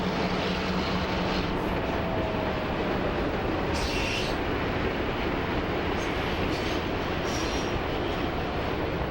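B&O diesel locomotives roll past with a dense, steady rumble of engines and wheels on rail, loud and continuous, with faint wheel squeal above the roar.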